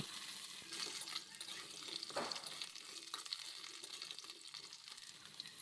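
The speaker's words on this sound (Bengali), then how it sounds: "এখন আলুটাকে একটু ভেজে নিচ্ছি" Diced potato frying in a pan, a steady faint crackling sizzle with a brief stirring scrape, close and without talk.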